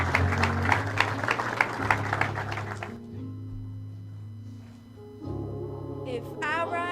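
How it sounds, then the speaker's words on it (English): A burst of applause and clapping from an audience, fading after a few seconds into a low hum and murmur. "So how about a big welcome and a big round of applause?"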